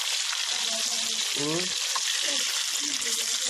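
Thai sour fermented fish (pla som) frying in a pan gives a steady, close hiss of hot oil with scraping and stirring, and no voices.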